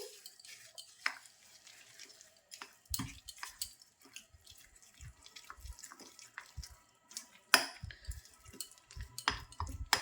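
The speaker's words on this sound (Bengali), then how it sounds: "এলাচ পাউডার দিচ্ছি হাফ চামচ আবার খুব ভালো করে মিক্স করে নিচ্ছি" Palm malpua batter with half a spoon of cardamom powder and desiccated coconut being mixed in a bowl, with quiet wet stirring, scraping and occasional clinks of a spoon against the bowl, close and faint.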